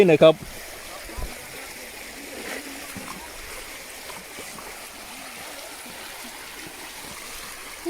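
Stream water flows in a steady, soft rush throughout, with brief louder splashy sounds and a voice at the very start, during a fruit-gathering outing in Thailand.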